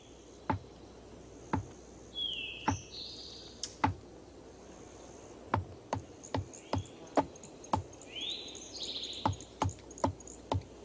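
Woodpeckers in a forest send out sharp, isolated knocks and short calls spaced irregularly, mostly steady and moderately close over a quiet background hiss with some high chirps.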